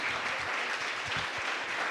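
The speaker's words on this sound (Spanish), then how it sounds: "pues apláudanle ahora al Señor" A church congregation applauds during a sermon, a dense and steady burst of clapping that fills the whole moment with no talking over it.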